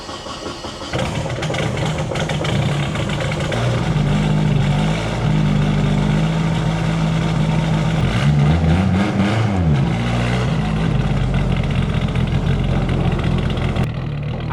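A turbocharged Nissan S13 240SX fires up after a brief quiet moment, then settles into a loud, steady rumble with a slight rise and fall in pitch as the engine runs.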